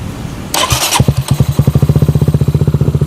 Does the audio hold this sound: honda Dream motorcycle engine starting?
yes